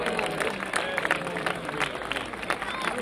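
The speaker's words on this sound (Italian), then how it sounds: "Signore e signori, un grande applauso" An audience applauds at a presentation event for the Fiorentina football club, with steady crowd clapping mixed with cheering and babble throughout.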